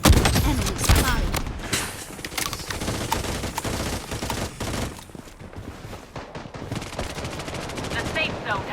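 Rapid bursts of shotgun and automatic gunfire from the Blood Strike mobile shooter played in squad-versus-squad mode, dense and loud throughout with sharp repeated blasts and brief game voice callouts.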